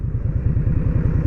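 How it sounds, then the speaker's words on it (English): An Indian Scout Bobber motorcycle under way throbs with a loud, close, low rhythmic engine pulse that stays steady through the short stretch. "I'm enjoying myself on the motorcycle"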